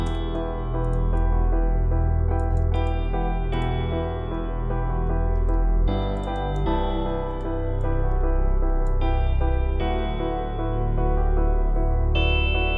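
A synthesized melody with a harmonically rich, processed tone and a wash of reverb, notes ringing into each other steadily throughout.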